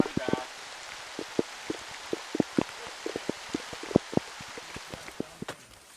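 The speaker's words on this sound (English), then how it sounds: "Raining, it's pouring." Rain patters steadily on a mountain ridge trail on Mount Ka'ala, O'ahu, with scattered louder drops tapping a nearby surface over a soft continuous hiss.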